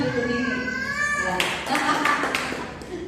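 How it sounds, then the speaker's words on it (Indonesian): Church audience applauding after a child answers a Sunday sermon question, a burst of clapping rising midway and running to the end, following a moment of voice or cat-like tones. "Tepuk tangan untuk ini."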